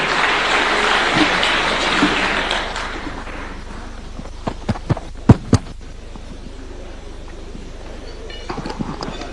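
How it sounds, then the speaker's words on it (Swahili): Audience applause at an Iftar gathering hosted by the president, a dense wash of clapping that fades after a few seconds into scattered sharp individual claps and quiet room noise. "Tupige makofi tena, tumpongeze kwa makofi."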